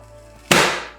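A single loud, sharp snap comes from a manual onion chopper in a home kitchen. The hit is sudden and close, with a bright crack that rings out briefly and decays over half a second.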